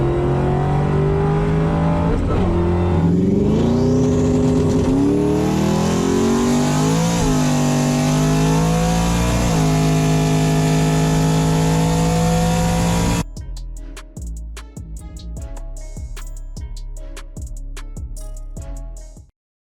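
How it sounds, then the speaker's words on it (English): A Ford Mustang Mach 1 with a 6R80 transmission revs hard and loud up close, its engine note rising and sweeping, then cuts to a series of sharp, choppy blips. "Rev it up, ease it off."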